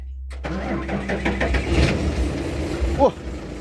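A car engine cranks and catches, settling into a steady idle with a brief rev near the end, heard close by alongside background voices.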